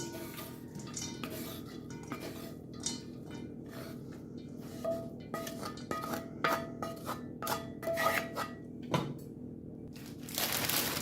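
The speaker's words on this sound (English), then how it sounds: "So all we're really going to do to the pan is rinse it." A cooking pan being rinsed after Brussels sprouts were cooked in it, with scraping, clattering metal cookware and clinks over a steady background of running water and kitchen noise, with no talk.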